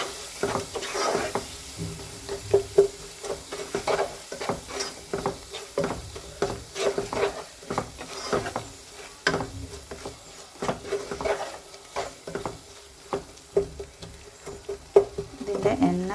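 Masala for a Kerala-style kadala curry stirred as it fries in oil in a pan, giving a steady soft sizzle broken by frequent scraping and tapping strokes of the spoon, close and fairly faint, with no talking.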